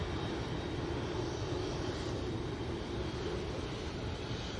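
Singapore Airlines airliner taxiing past at Manchester Airport, a loud, steady engine roar with wind buffeting, constant and close with no talk.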